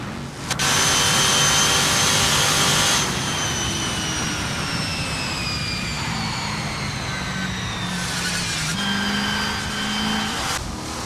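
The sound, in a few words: Lola T70 MKI Spider race car engine, Assetto Corsa video game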